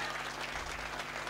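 Brief burst of dense audience clapping at a ghazal concert, a full, even wash of many hands from a large crowd that continues unbroken to the end.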